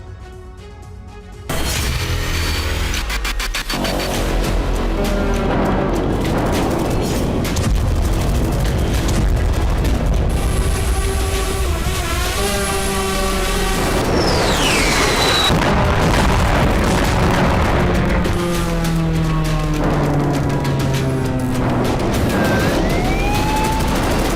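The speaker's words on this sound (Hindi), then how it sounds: "कहीं हथियार गोदाम तबाह हुआ तो कहीं ऑयल डिपो बारूदी गुबार से धधक उठा।" Explosions from drone strikes tear through Russian weapons depots and oil depots, heavy booms and crackling blasts under a continuous dense roar, with rising and falling siren-like wails cutting through for the full length.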